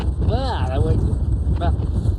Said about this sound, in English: It's just too windy and the showers.